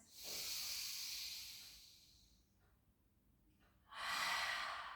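Deep belly breathing during a pilates session: a long airy inhale-exhale, a quieter pause with faint breath, then another strong breath, close and alone.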